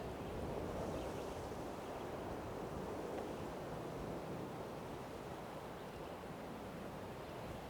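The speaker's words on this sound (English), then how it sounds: "the full flow of the wind strums the high, uniquely tuned needles of the longleaf and plays a music enjoyed nowhere else" Wind flowing steadily through the high needles of a longleaf pine forest in Alabama, producing a soft, continuous hiss and rush without gusts or voices.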